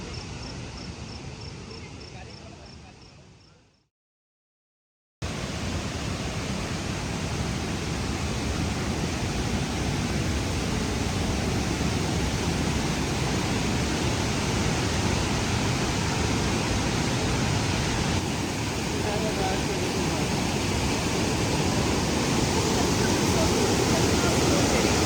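A waterfall in Gilgit roars as flowing water, a dense, steady hiss that fills the scene at a constant level after a brief silent break near the start, with voices briefly present.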